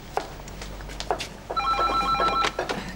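A telephone rings in a quiet room in a German drama series, its bell giving a bright, repeated trill that sounds close and moderately loud, with brief sounds in the room around it.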